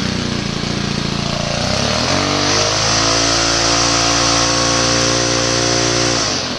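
String trimmer engine running at half throttle, a loud, close, steady buzzing drone whose pitch shifts and settles as the speed changes, then drops away near the end.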